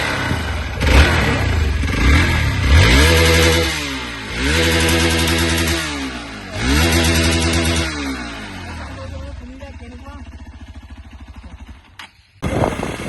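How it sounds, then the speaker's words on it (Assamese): A 2025 Hero Xpulse 200 4V motorcycle engine revs hard several times in rising and falling sweeps, loud and close, then settles to a rough idle before cutting out. "তোমালোকে বাইকখন আরপিএম সাউন্ড শুনা গাইস"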